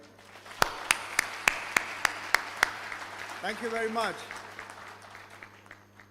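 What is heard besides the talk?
audience clapping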